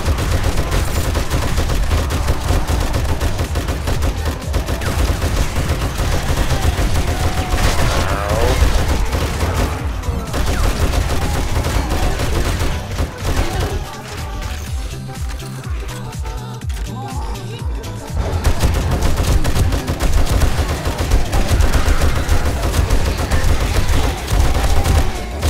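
Rapid gunfire in the video game 7 Days To Die crackles almost continuously with dense bursts and booms, easing briefly midway, while someone talks over the shooting.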